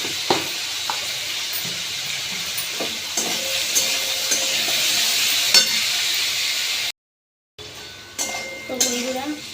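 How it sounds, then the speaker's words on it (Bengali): Potato, pumpkin and eggplant pieces fry in a pan for a banana-stem dalna curry, a steady sizzle with occasional stirring clinks, briefly cut off before the frying resumes. "আলু, কুমড়ো, বেগুন যা দিয়েছি থোড়ের ডালনাতে, এই সবজিগুলো ভাজা হয়ে গেছে।"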